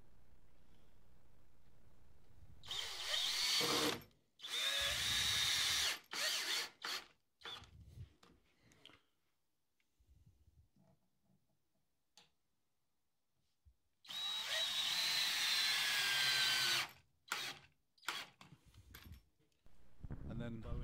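Power drill driving screws into a wooden DIY bunk bed, several loud whirring bursts of a few seconds each with short pauses and clicks between, close by, with a longer drilling run near the end.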